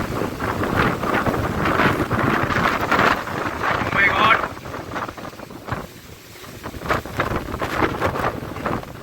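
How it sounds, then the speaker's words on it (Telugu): Strong wind gusting through a banana plantation, heavy rumbling buffeting on the microphone in surging waves, loud and close, with a voice speaking over it. "చూడండి అంత గాలి వస్తున్నా సరే"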